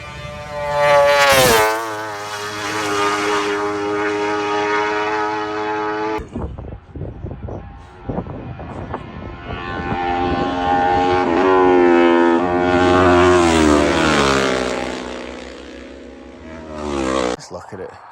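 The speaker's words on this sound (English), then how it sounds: "you can hear the bikes coming up from the Gooseneck through there and on up to Guthrie's" Racing motorcycles at the Isle of Man TT climb from the Gooseneck toward Guthrie's. High engine whines rise and fall as bikes pass, first one close and loud, then more sweeping by with climbing pitch, while someone talks over them.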